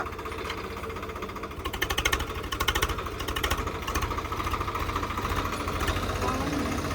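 A tractor engine chugs steadily in a farm field with a rapid knocking, hammer-like pulse, moderately loud and continuous throughout.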